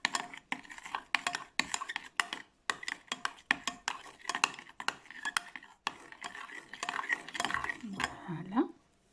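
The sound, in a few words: stirring tomato sauce and pepper in a pan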